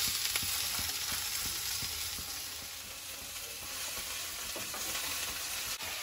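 Greens frying in a pan of oil with garlic and slit green chilli, a continuous close hiss of sizzling with soft rhythmic stirring taps, no voices.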